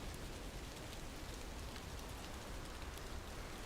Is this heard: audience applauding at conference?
no